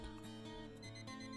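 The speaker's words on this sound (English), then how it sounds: "That same tinny stabbing beep I'd been hearing every weekday for 3 damn years" A neighbor's alarm clock beeping through thin apartment walls in Queens, a tinny repeating electronic tone heard alone, steady and fairly close.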